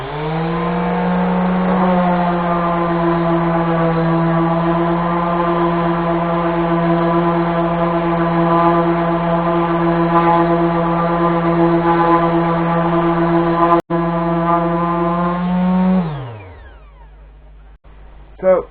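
An orbital sander works an old coffee table top, giving a loud, steady motor hum with a strong tone that holds unbroken for about sixteen seconds, then winds down and stops.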